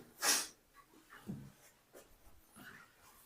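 A pen scratches across paper while working notes are written out for a salary income accounting problem: one sharp stroke near the start, then faint, scattered short scratches with no one talking.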